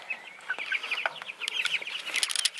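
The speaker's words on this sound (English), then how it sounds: "Hold on, I'll show you the chickens." A flock of chickens in a chicken tractor clucks and chirps in quick, overlapping high calls with a few sharper peeps, close by and steady, with no voices.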